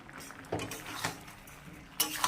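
A utensil stirs green jackfruit and prawn curry in a pan, giving a few soft scraping clinks against the metal, faint and close, over a low hiss of cooking.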